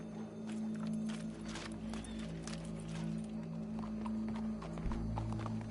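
Horse hooves clip-clop steadily in a PS4 video game, a continuous rhythmic trot heard close over a low steady musical drone, with no talk over it.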